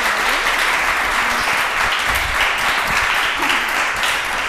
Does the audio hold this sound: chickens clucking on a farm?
no